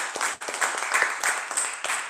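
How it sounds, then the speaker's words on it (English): Applause from a small audience after a talk on Amazon and small-business selling, a steady patter of claps of moderate loudness, somewhat thin and distant as if over an online stream. "Let's give him a round of applause."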